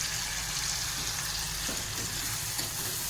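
Amla murabba, a mixture of amla with sugar and lemon juice, cooks in a pan and gives off a dense, continuous sizzle and bubbling with soft stirring, close and unbroken throughout.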